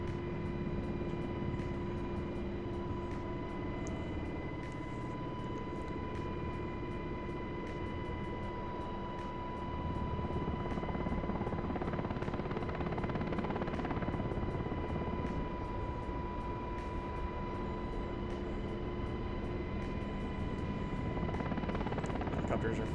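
A UH-60 helicopter drones steadily close by, its rotor throbbing in a constant, loud hum with engine whine that barely changes throughout.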